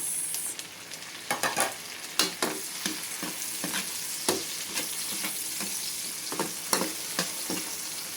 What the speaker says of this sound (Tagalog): ngayon po ay pwede na nating ilagay ang kamatis